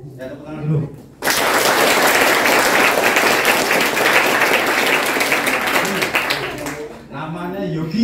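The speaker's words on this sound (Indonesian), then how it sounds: "tepuk tangan dulu" Loud, dense applause from an assembled group at a school leadership training event, starting abruptly after a short spoken phrase and holding steady for several seconds before voices return at the end.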